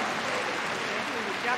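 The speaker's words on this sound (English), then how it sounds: "Nice round of applause for that lot." An audience at Crufts 2019 claps steadily and fairly loudly for the East Anglian Staffordshire Bull Terrier display team, with a voice faintly mixed in.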